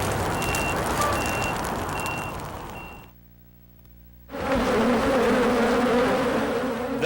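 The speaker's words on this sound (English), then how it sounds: "The hive wraps around a bed frame and dresser." Dense buzzing of a honeybee hive built inside a house, wrapped around a bed frame and dresser, fills the room loudly, briefly dropping out to near silence midway before returning strong and steady.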